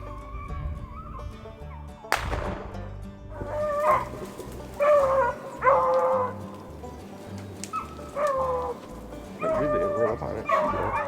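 Hunting dogs baying and barking while chasing rabbits outdoors in Michigan, a pack of repeated yelps and howling barks in bursts from moderate distance, with a sharp bang near the start and some faint talk.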